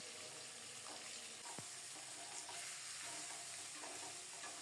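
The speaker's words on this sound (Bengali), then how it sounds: "এখন আলুগুলো নেড়ে চেড়ে একেবারে লাল লাল করে ভেজে নেব।" Potatoes fry in a pan with a faint, continuous sizzle, broken by a single clack of stirring near the middle, quiet and close with no voices.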